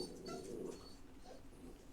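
A dog whimpers faintly in a quiet room, a few soft high whines over low background hum.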